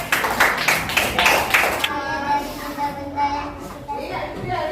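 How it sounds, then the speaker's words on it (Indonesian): A school class claps for a student group in a short burst of hand claps, which stops as children's and a teacher's voices take over and talk. "Oh ya, tepuk tangan dulu untuk kelompok C."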